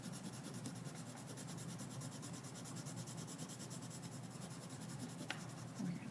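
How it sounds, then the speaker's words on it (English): A colored pencil lightly shading paper, a soft continuous scratchy rub with rhythmic back-and-forth strokes, close and quiet, no talk. "let's go ahead and lightly fill in all of this with the lighter colored pencil"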